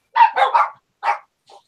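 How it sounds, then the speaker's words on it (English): A dog barks nearby, three quick loud barks in a row, then a single bark after a short pause and a faint final yip, all against silence. "Apparently, my voice makes dogs bark."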